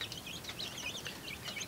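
A broody hen clucks softly in a chick pen, a few faint, quiet clucks over a low background hush.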